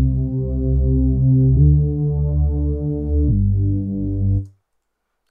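Synth bass patch in Studio One playing a low, sustained, buzzy bass line of three held notes that change pitch, steady and loud, then cutting off into silence.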